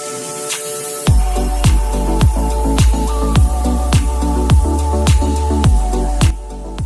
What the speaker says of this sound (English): Scrub the wheels. Make sure that we get all of those brake dust out of there